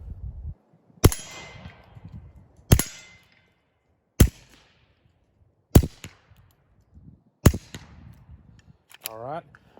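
Five sharp suppressed shots from a Smith & Wesson 22 Compact pistol with a Rugged Mustang suppressor firing Blazer 22 ammunition, evenly spaced about 1.5 seconds apart with brief ringing tails, followed by a short whistling sound at the end.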